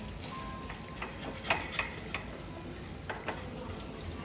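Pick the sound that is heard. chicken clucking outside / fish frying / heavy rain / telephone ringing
fish frying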